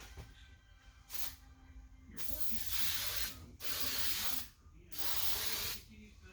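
Spray paint hisses in four short close bursts onto an acrylic instrument panel for a Cessna 140, laying a light dust coat, with quiet pauses between passes.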